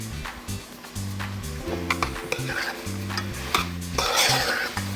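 Pork sizzles in a pot of geera while being stirred, a bright frying hiss rising and falling with the stirring, with occasional scrapes and clinks of the utensil against the pot over low background music.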